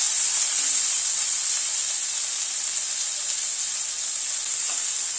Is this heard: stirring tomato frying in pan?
yes